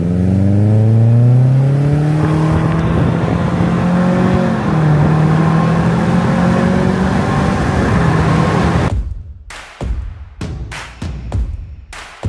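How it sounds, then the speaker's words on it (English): A Subaru's exhaust roars loud and close with the windows down, rising in pitch as the car accelerates through gears, then dropping away to a few sharp clicks and knocks. "Windows down. Let's hear the exhaust."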